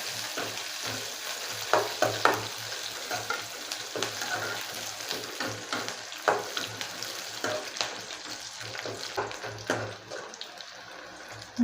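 Curry leaves and asafoetida fry in hot oil with a steady, close crackling sizzle, broken by frequent scrapes and stirs of a spoon in the pan. The sound runs unbroken throughout at a moderate level, with no talking.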